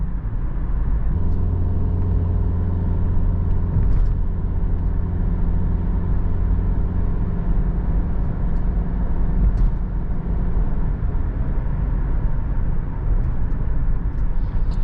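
A 2013 Subaru Outback 2.5i gathers speed on the road, its engine drone and road rumble held steady and close inside the cabin throughout, with a few faint knocks, no talking.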